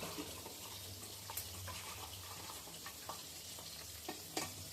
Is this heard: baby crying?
no